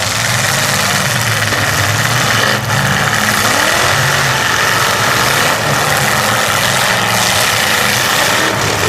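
A 1966 Chevrolet derby car runs hard at a county demolition derby, its engine revving and idling in rough surges over a dense, loud continuous roar of other cars and crowd noise.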